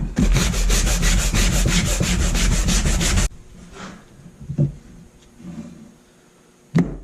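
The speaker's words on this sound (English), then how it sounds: "So now we're just going to hit it with the old palm sander here." A palm sander buzzes loudly against pallet wood in a fast, pulsing scrub for about three seconds, then stops, leaving scattered soft handling knocks and rubs.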